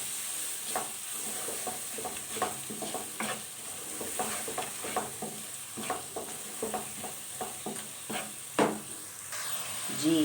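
Spices stirred and fried in a pan with sautéed garlic and ginger, a steady close sizzle and hiss under repeated scraping strokes of a spoon, irregular and continuous, with one louder knock near the end.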